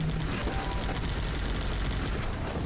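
Machine gun fire in the Guns Up! strategy video game, a dense continuous clatter of distant overlapping bursts that fills the whole stretch with steady rumbling battle noise.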